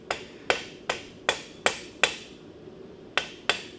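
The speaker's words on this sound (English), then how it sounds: "So I'm doing light taps" Light, crisp blacksmith hammer taps on hot metal while finishing a handle, about nine bright metallic strikes at a steady rhythm with a short pause before the last few, close and clear with no talk.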